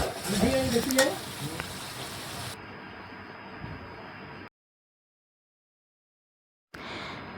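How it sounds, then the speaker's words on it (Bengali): Potatoes and spice masala sautéed together in a pan, with a steady sizzle and scraping stirs. The sound cuts out to near silence partway through, then the sizzling returns briefly. "আমি আলুগুলো দিয়েই আলুর সাথে মশলাটা ভালোভাবে কষিয়ে নিচ্ছি"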